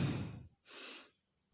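A person imitates sniffing through the nose, two short breathy inhalations separated by a brief pause, close and fairly quiet, with no words spoken.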